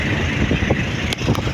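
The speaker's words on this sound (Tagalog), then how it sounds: "medyo maingay po, mahangin-hangin." Strong wind off rough sea at Negros buffets the microphone with a heavy low rumble, constant and loud throughout, with faint sea noise beneath.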